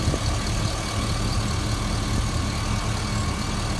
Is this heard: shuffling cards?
no